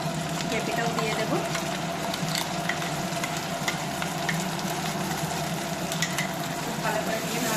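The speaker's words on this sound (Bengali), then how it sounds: "ভালো করে দিয়ে নাড়াচাড়া করতে হবে।" Chicken bharta with papaya stirred in a hot pan, a steady loud sizzle of frying under continuous scraping and stirring, with a voice speaking over it.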